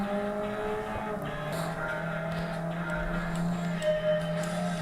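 Car engines and tyre squeal from a racing game played on a PS5, a steady droning engine note with screeching tyres and some shifts in pitch, heard on its own without talk.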